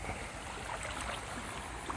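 A stream in Krabi, Thailand flows with a faint, continuous watery rush and light burbling, steady and low-level throughout with no speech.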